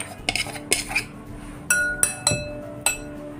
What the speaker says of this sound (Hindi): इसको अच्छी से मोच माच के ले लेती हूँ।